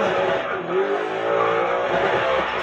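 A race car in the game GRID Legends slides and skids under taps of the e-brake, its engine droning loud and steady with tire scrub throughout.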